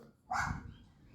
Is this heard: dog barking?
yes